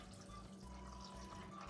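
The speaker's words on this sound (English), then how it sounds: "So I'm gonna pop them in this bowl and pour some water over them." Steady low rushing of cold water poured continuously into a bowl, close by, with a faint hum underneath; no voices.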